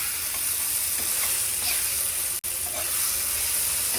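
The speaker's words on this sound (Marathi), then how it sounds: "टॅमॅटो पण मस्त फ्राय करून घेतो" Tomatoes fry in a pan for a Maharashtrian brinjal bharit, giving a steady, close sizzle that runs throughout with a brief dropout near the middle.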